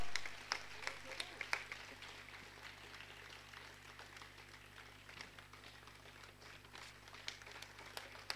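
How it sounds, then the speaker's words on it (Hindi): Audience applause at a two-day yoga and meditation camp honouring ceremony, a faint, steady patter of clapping from a crowd with a few sharper claps, a low hum underneath and voices murmuring throughout. "तालियां बजाते रहिए"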